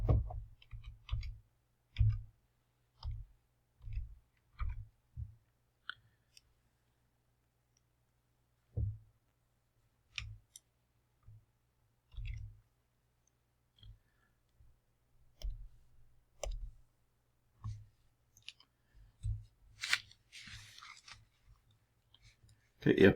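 Keys on a TI-84 Plus CE graphing calculator are tapped in quick irregular bursts of small plastic clicks, close and fairly quiet, with short pauses between runs and no talking over them.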